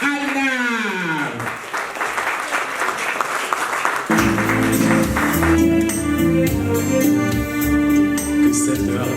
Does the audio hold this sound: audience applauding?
yes